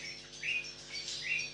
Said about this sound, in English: the birds are coming out.